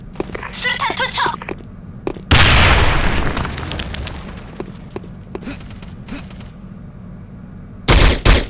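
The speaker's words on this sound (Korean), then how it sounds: "수류탄 투척." A grenade is thrown and detonates in an online shooter game: a loud burst partway through fades into a long rumbling tail, framed by scattered gunfire pops, a sharp burst near the end and some voice activity.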